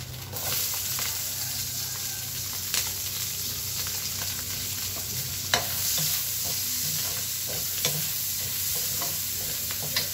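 Onions drop into hot oil for a pork-bone kaldereta and sizzle in a steady, soft hiss, with occasional clinks and scrapes of stirring close by.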